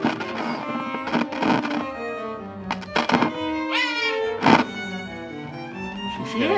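A tape player's switch clicks and thunks a few times, sharp close knocks scattered over a tonal, music-like background sound.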